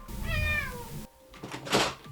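A pet cat gives one clear, drawn-out meow close by, followed after a short pause by a soft knock and a louder, breathy second vocal sound.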